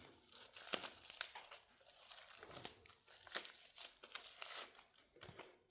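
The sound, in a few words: unwrapping packages of Japanese goodies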